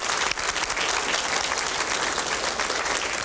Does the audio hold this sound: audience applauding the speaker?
yes